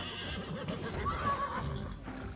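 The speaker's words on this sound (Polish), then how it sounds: "Mocno koń oberwał." A horse in the video game Wartales neighs after being hit, giving one clear, wavering whinny over a busy game background.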